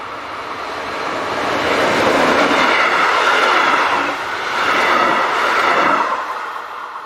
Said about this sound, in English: Class 143 locomotives still dominate on local passenger services in the area